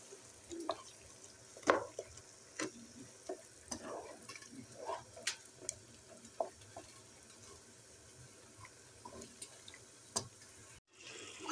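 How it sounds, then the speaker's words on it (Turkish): Eggplant, tomatoes and garlic being stirred in a pan, with scattered scraping and clacking strokes over a soft, steady sizzle, close and moderately quiet, with no talking. "kızartarak koyduğum patlıcanı ve domateslerimi dolaptan çıkardım ve içine attım"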